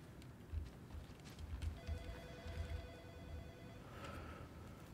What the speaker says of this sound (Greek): Χτυπάει και ένα τηλέφωνο στην μπούτσα σας.